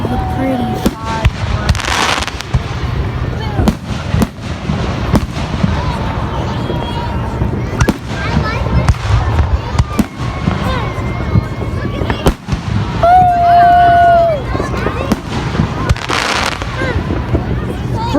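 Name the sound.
Fourth of July fireworks exploding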